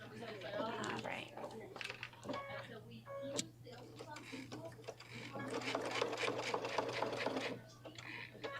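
A sewing machine stitches through the interfacing of a fabric bag with a steady mechanical whir and ticking, running in bursts close by while a person talks over it.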